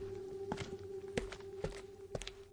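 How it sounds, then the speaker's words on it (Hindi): Faint shoe footsteps at an even walking pace on a deserted road at night, a handful of soft thuds on a hard surface against a quiet background. "उसके जूतों की आवाज सुनसान रात में गूंज रही है।"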